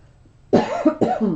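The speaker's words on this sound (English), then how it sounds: "Famous for that famous little cough I have when I'm talking a lot." Two harsh coughs in quick succession, close and loud, after a moment of near silence.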